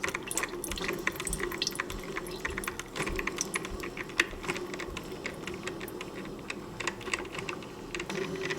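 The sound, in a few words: Mr. Coffee Mini Brew coffee maker brewing, water dripping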